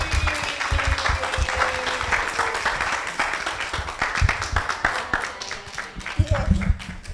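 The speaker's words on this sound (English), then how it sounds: "Please give a round of applause for the UTech Center for the Arts Drama Ensemble" An audience applauds the UTech Center for the Arts Drama Ensemble at a festival of the arts, with steady clapping of moderate loudness and voices audible beneath it.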